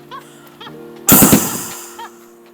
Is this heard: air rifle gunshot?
yes